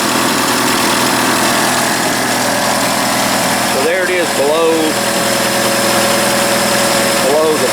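A 1982 third-generation Camaro V8 with a fuel cell idles steadily and loudly after its first start in 20 years, a constant engine drone with someone talking over it.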